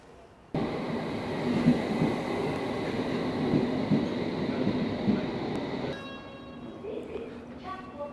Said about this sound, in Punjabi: ਸੋ ਟ੍ਰੇਨ ਸਟੇਸ਼ਨ ਵੇਖੋ ਉਹ ਆ ਗਈ ਜੇ ਆਪਣੇ ਵਾਲੀ ਟ੍ਰੇਨ